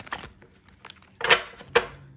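Tarot deck being shuffled by hand, producing a few quick papery riffles and snaps, with two louder crisp bursts near the end; close and brief, no voices.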